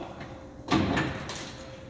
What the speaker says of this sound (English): the tailgate drops down to meet you